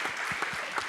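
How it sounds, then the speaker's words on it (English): A room of conference attendees at an energy discussion gives a brief round of applause for a panelist, a steady wash of clapping that fills the whole moment at moderate volume. "can we just give Gavin a round of applause?"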